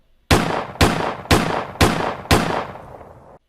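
Gunshot sound effects in a dramatic narrated fantasy story come as five sharp, loud reports in an even rhythm, each ringing with a short echoing tail, with no voices over them.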